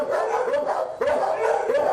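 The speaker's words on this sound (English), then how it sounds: "This little guy here is Lady Wiener Dog" A shelter dog barks and howls in long, wavering, drawn-out cries, loud and close, with no other sounds.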